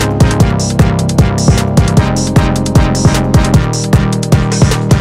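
Chord progression triggered from a Nord Drum 3p, layering pitched sustained chords under a steady, punchy rhythmic pulse of repeated hits, dense and loud throughout with no talking.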